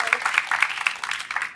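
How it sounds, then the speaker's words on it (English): Audience at a homelessness symposium gives a brief round of applause, a quick burst of many hands clapping at moderate volume with uneven peaks. "That does deserve a round of applause."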